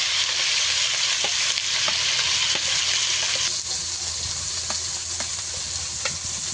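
Marinated prawns fry in black cumin oil in a kadai, giving a loud, continuous close-up sizzle with occasional faint clicks, and no voices.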